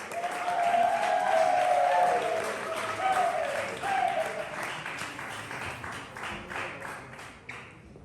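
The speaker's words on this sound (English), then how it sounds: "Keep that applause going for your next poem on the mic." Poetry slam audience applauding and cheering for a poet, a broad wash of clapping that swells loud at first and gradually thins out, with a voice briefly heard over it.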